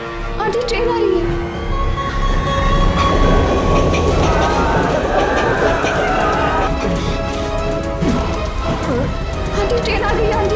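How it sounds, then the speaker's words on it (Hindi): A train rolls into a station with a loud, continuous rumble and clatter of rail cars, heard up close while people's voices mix in over the noise. "ट्रेन आ रही है।"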